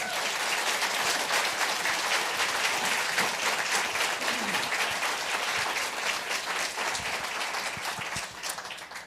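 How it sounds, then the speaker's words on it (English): A large audience claps loudly and continuously at a museum speaker session, thick crowd applause with a few sharper individual claps standing out, slowly tapering near the end; no one speaks over it. "I want to give Tina and William a really big round of applause"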